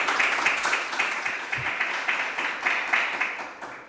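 An audience at a startup pitch competition applauds a presenter, steady clapping of moderate loudness with a slightly pulsing rhythm throughout, heard a little from a distance.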